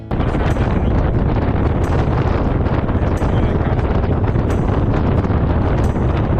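Strong wind buffets the microphone with a constant loud roar and rumble, broken only by occasional sharper gusts.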